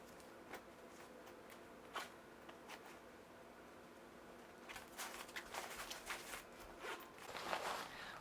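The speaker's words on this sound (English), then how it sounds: "I am zipping and pressing this in." A fabric packing cube stuffed with clothes is zipped shut in short, quiet rasping pulls, with a brief zip early on and a busier run of zipping and pressing near the end.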